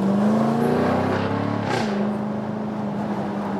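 A Jaguar F-Type P450 in Dynamic mode climbs a hill, its engine holding a loud, steady drone that rises in pitch then drops after a gear change, heard close and alone.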